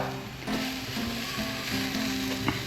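New York strip steaks searing over coals on a Weber Go Anywhere grill: a steady, close sizzle with crackling fat and a faint tonal hum in the background.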